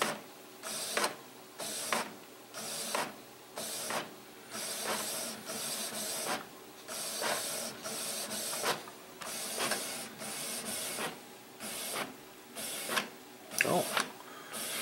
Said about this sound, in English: The printer has gone active again.